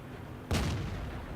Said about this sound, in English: a wild Bishop artillery appears down the road and lands a big old high explosive hit on him